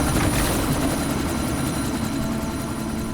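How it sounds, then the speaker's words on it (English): Helicopter in the video game Deus Ex: Mankind Divided, a loud continuous rotor thump and engine roar, steady and close throughout with no voices over it. "chopper's been grounded."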